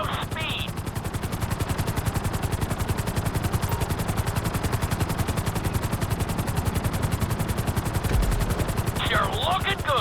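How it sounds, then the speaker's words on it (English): Helicopter in Grand Theft Auto V flying a flight school course, a steady rapid rotor chop running loud and unbroken throughout, with brief higher tones at the start and end. "we'll see how well you handle the chopper"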